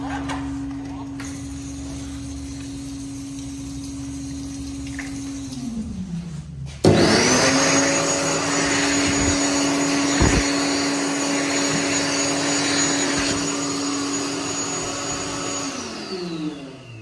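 A World Dryer SLIMdri hand dryer in a McDonald's restroom starts with a sudden loud, high-pitched whooshing roar and keeps running steadily, then spins down near the end, after a quieter dryer whine at the start.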